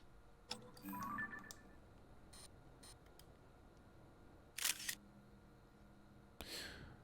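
Camera shutter clicks in the Zelda Tears of the Kingdom video game, a few quiet crisp snaps spaced apart over faint game ambience with small chimes.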